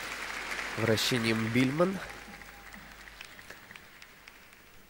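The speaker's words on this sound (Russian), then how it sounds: "Публика сразу тебя топит в аплодисментах" Faint audience applause ripples through a figure skating arena after a program, a soft crackling wash that follows someone commentator's voice and continues quietly beneath it.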